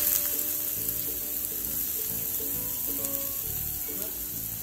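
Onion and turmeric frying in a pan give a steady, loud, even sizzle that runs unbroken from start to finish, close by and with no talking.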